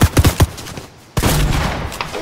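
Shooter video game gunfire: a quick burst of four sharp shots, a near-silent pause, then a steady rush of in-game noise with faint fragments of further fire.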